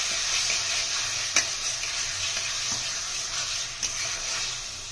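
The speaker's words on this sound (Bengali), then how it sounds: "মটরশুঁটিগুলো দিয়ে দেবো। একটু ভালোভাবে মশলাটা কষিয়ে নেব।" Green peas and spice paste frying in a pan for a cauliflower and duck egg curry, an even, continuous sizzle up close with a couple of sharp utensil knocks against the pan.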